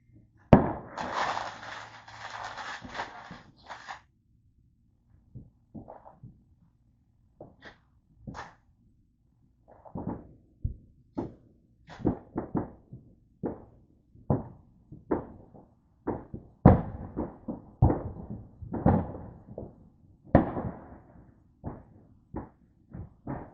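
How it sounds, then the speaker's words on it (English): Fourth of July fireworks and firecrackers going off at a distance: a sustained crackling burst at the start, then scattered sharp pops and bangs in irregular clusters, alone with no talk. "I was kind of worried that people weren't going to light off fireworks, but you know, I'm a liar."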